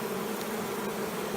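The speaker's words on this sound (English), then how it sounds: "they're fanning. Quite a few bees are going in the box." A honeybee swarm fans at the entrance of a hive box, giving a dense, steady, close buzzing drone with no gaps or voices.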